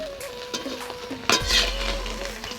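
Fish shallow-fried in a little oil in a wok, giving a soft continuous sizzle with a few metallic scrapes and clinks of a utensil against the pan, fairly close and free of any speech.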